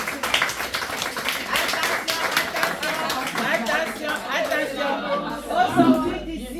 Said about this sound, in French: est-ce qu'on peut applaudir pour cette performance?